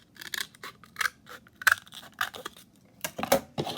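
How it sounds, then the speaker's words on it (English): Thick scissors snip through cardboard while trimming a craft piece, a run of sharp crunching cuts in uneven bursts, close and alone with no talking. "These scissors are pretty thick, so it's not working great."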